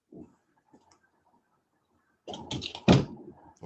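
A home defense bar is pushed down into place on a door with two fingers, giving a few close, solid thunks and clicks after a quiet stretch.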